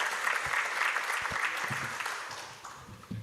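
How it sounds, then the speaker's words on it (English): Steady applause from a conference audience in Bali, Indonesia, a dense wash of clapping that holds throughout and thins slightly toward the end. "please give a big round of applause for this very insightful session."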